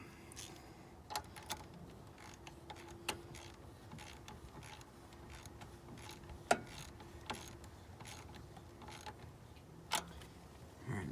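Ratcheting on the battery hold-down of a 2008 Toyota RAV4: sparse, fairly quiet mechanical clicks and ticks spread irregularly across several seconds, with a few sharper snaps standing out against a low background hum.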